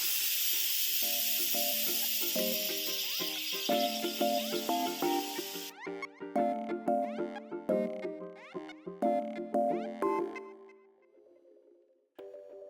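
An Instant Pot vents steam in a quick pressure release: a loud, steady hiss runs for about six seconds and then cuts off, with upbeat background music playing throughout.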